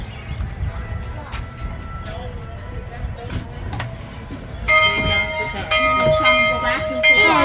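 A bell pulled by hand at an old western town with buggies and wagons rings out in the second half, bright ringing tones over a busy outdoor background with people talking.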